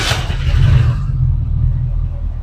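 A hot rod car engine rumbles close by just after the key is turned, a brief loud low running sound that starts with a burst and settles into a steady drone.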